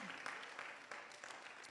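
Worshippers at a Sunday church service applaud together, a quiet, distant and dense patter of clapping with a few sharper claps standing out.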